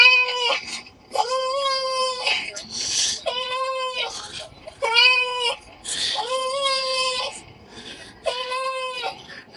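Recorded animal cries play in repeated bursts from a coin-operated donation box in Bremen, Germany, harmonic wailing calls with brief pauses between them, loud and close, with some voices around.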